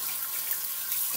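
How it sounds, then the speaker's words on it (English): Water runs steadily from a bathroom tap during a wet shave, giving a constant hissing rush with no voices over it. "I think that's my water."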